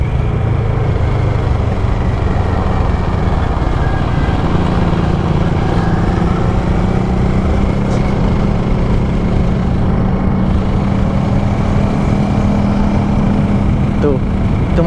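A 2012 Kawasaki ER-6n motorcycle engine running steadily while ridden on a paved road, a continuous low drone that stays loud and even throughout, with a person talking over it.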